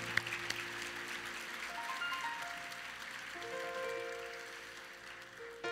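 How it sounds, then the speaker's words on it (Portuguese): A church congregation applauds, a soft, steady patter of many hands heard faintly from a distance, with sustained tones from a keyboard or organ running underneath. "Vamos aplaudir esses irmãos"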